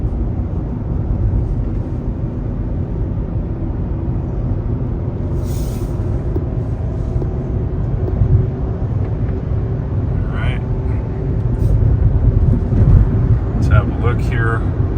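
Rivian R1T electric pickup cruising on the highway, a steady low road and tire rumble with wind roar from inside the cabin and a few faint clicks, continuous and moderately loud.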